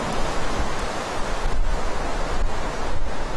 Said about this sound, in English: the sound of waves hitting the rocks echoes through the air